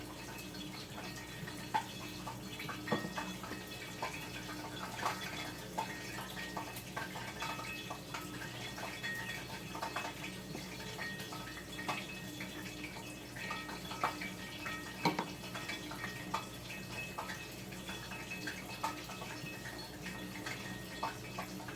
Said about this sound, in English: To combine my dough, I'll be using 1 cup of cold water.